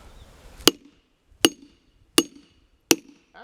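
Four sharp, evenly spaced cracks of wood being struck and split, loud and close in otherwise quiet surroundings.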